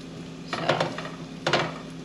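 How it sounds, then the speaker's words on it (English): A spatula scraping and flipping French toast in a hot pan at medium-high heat, two distinct bursts of scraping and clatter about a second apart over a low steady sizzle. "I use the spatula to essentially just flip them over"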